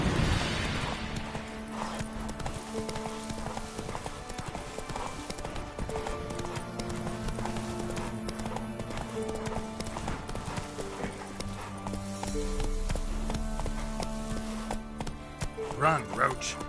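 Roach, the horse in The Witcher 3, gallops with a steady, fast clip-clop of hooves throughout, close and prominent under game music and occasional voices.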